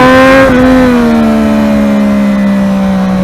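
A Triumph Daytona 675 motorcycle exhaust revving hard, a loud, close, sustained engine howl whose pitch climbs then settles into a steady, slowly dropping drone with no talking.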